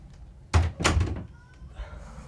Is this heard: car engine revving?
no